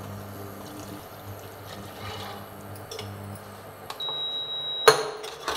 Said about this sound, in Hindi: मैंने इसमें पानी डाल दिया है।